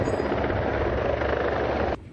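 A helicopter flies at an air show, its rotor and turbine making a loud, steady droning whir that holds evenly for about two seconds before dropping away abruptly.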